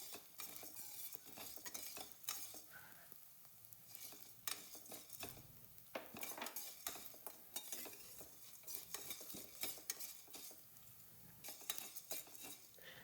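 Sago pearls fry in hot ghee in a pan while a spoon stirs them steadily, giving a continuous crackling sizzle broken by repeated scraping and clinking of metal against the pan, with no voices.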